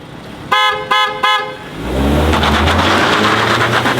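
A car fires off a launch-control start after three short, loud horn toots, its engine then roaring and revving hard and steadily close by, with no talking over it.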